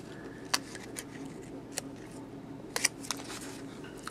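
Scissors snip a thin strip of flexi film in a quiet room, a handful of faint, short, crisp clicks spaced irregularly across a few seconds.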